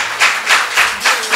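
An audience applauds a guest speaker, Rémi M.K. Assogba, at a talk on work-life balance. The loud, dense clapping rises and falls in rhythmic swells, like a steady ovation, with no talking over it.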